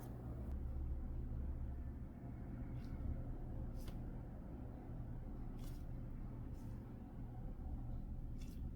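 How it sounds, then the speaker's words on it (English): Steady low traffic rumble of vehicles on a nearby road, continuous throughout with occasional brief higher hisses as cars pass. "So you might be able to hear cars in the background."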